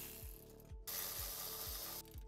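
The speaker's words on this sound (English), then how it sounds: "we're going to remove this aluminum scatter shield, and there are three bolts holding it on" A ratchet turns Torx bolts out of an aluminum scatter shield on a Polaris RZR Pro R, producing a quick run of sharp, evenly spaced clicks up close, with no talking.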